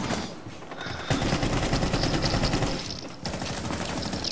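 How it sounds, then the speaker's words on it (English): Shotgun and other gunfire in the tactical shooter Rainbow Six Siege crack out in dense, rapid bursts, loud and close, with a brief lull before the firing picks up again. "Just shotgun through the wall."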